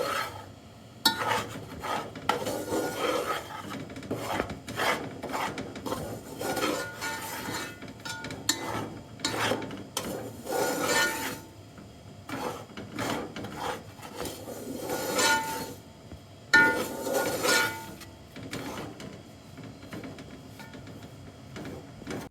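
Dry fruit laddu mixture is stirred and rubbed around a bowl in rasping, scraping bursts, with some irregular pauses across the stretch and no voices.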